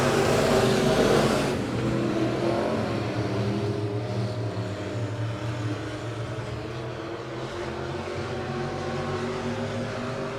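Race cars at Monett Motor Speedway in weekly racing, engines roaring loudly at first, then a steady, blended drone of several cars circling the track at a distance.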